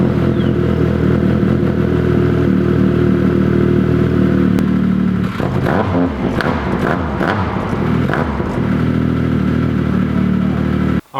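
A Yamaha Viper snowmobile with a custom GGB exhaust runs up close, a loud, steady two-stroke drone that turns rough and sputtering partway through before settling and cutting off abruptly at the end.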